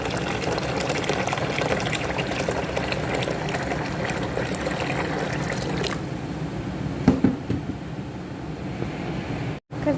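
Water poured into a pot for a lemon recipe: a continuous gushing, splashing pour that thins out midway, followed by a few brief clinks and quieter trickling.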